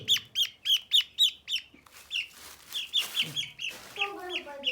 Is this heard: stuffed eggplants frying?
no